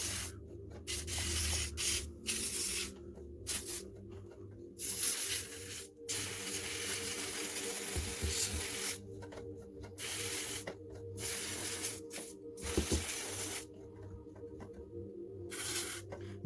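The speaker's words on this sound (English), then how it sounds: "So basically anything moves, all the mechanical, I'll spray this on." Lubricant sprayed onto the moving mechanical parts of a noisy sewing machine during a maintenance service: repeated close hissing bursts separated by short pauses, over a low background hum.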